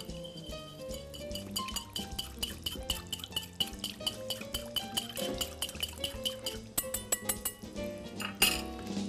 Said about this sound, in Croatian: dodamo malo senfa i sastojke izmiješamo pjenjačom